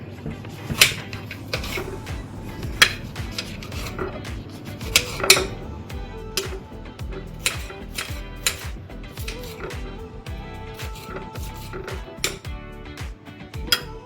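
A freshly sharpened kitchen knife cutting on a board during meal prep: a run of light, crisp clicks and taps at an uneven pace, close but fairly quiet, with a few brighter knocks and a soft kitchen background.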